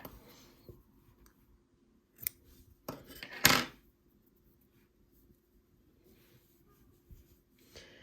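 Scissors snip through crochet yarn at the end of a granny square motif. A few sharp, close cuts cluster in the middle against a quiet background, with faint handling noises around them.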